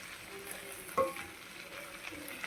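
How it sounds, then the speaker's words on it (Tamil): Drumstick leaves sautéing in a pan with coriander and curry leaves, a steady soft sizzle with one brief metallic clink of a stirring spoon, close up and without speech. "1 மூடி தேங்காய் கூட போட்டு வதக்குங்க."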